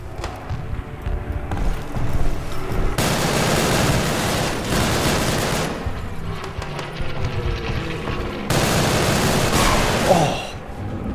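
MP40 machine gun fire in a video game comes in two long, dense, loud bursts separated by quieter stretches of scattered in-game noise, with no talk.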